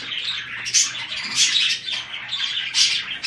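A six-month-old cockatiel chirps close by in a series of bright, high tweets and squawks, coming in bursts about every second or so, with no talking over them.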